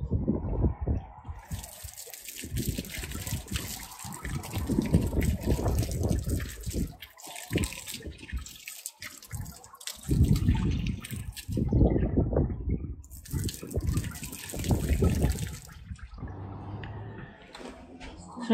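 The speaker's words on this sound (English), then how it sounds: "this is just to show the difference when you put this water on now, how it beads" Water is poured and splashes onto a sealed fabric canvas cover, with irregular bursts of pattering and dripping separated by short pauses, fairly close and moderately quiet.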